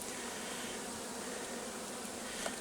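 Honeybees at a hive fending off robber bees, a dense steady buzzing swarm that fills the air continuously at moderate volume, close by, with no voices.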